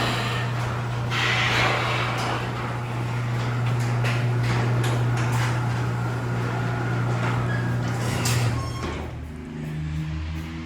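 A residential one-car garage door motor runs with a continuous low mechanical hum and rattle for several seconds before cutting off near the end with a brief clunk.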